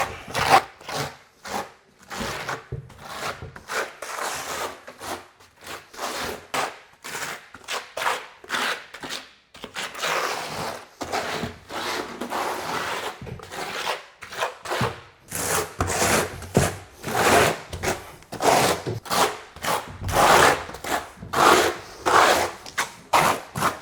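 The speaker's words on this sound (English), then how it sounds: "with the back side of the trowel, burn the thin set into the substrate." A trowel's back side is pressed and dragged over thin-set mortar on a shower substrate in a tiled-shower waterproofing job, giving a long series of close, rhythmic rasping scrapes with short pauses between strokes.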